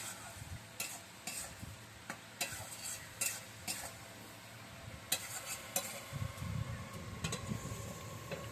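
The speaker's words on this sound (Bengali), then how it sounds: "এবার এইটা একটু ভাজা ভাজা হবে।" Soybean chow mein ingredients with turmeric and a little water fry quietly in a pan. A spoon stirs and scrapes in irregular strokes over a soft sizzle, and no one speaks.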